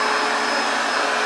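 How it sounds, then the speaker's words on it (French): Steady broadband whoosh of a vacuum cleaner running close by and loud, its motor drone holding constant throughout with no voices. "Aspirateur qui vient à ma rencontre."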